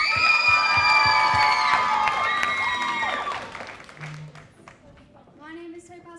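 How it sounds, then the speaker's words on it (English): A pageant audience at the International Junior Miss UK claps and cheers loudly, with whoops over the applause, while an announcer speaks; the applause fades out toward the end. "please keep that applause going"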